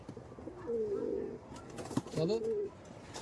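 High flying teddy pigeons coo in a few low, rolling bursts, close by and fairly clear, with a pause between two main phrases and light background noise.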